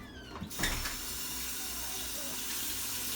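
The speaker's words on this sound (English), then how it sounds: "now it's time for the rinsing." Kitchen tap turning on and running water for rinsing, a brief clatter then a steady close rushing hiss of flowing water that continues to the end.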